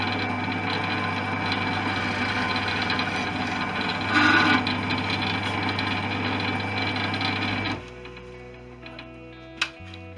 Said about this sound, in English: I'll drill the first hole.